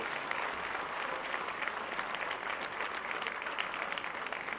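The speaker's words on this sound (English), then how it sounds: "Please give her a warm, warm hand of applause" Warm, sustained applause from an audience at a book launch for author Gurmehar Kaur, steady dense clapping filling the room with no talk over it.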